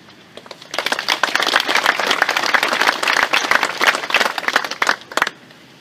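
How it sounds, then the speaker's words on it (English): A room full of people at a tribute gathering gives themselves applause, a loud, dense burst of many hands clapping that swells quickly, holds, then tapers off near the end. "please give yourself a round of applause for a job well done"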